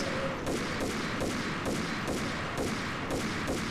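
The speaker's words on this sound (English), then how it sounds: "Shoot it, Max." Rapid bursts of gunfire in the shooter game Max Payne crack out one after another at a steady rhythm of about three shots per second, moderately loud and continuous, with no talking.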